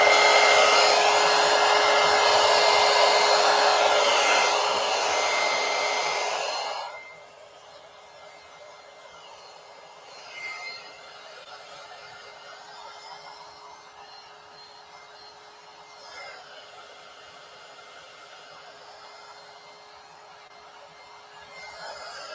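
A hair dryer blows loud and close while drying metallic craft paint on paper, then switches off after about seven seconds and leaves a faint quiet room.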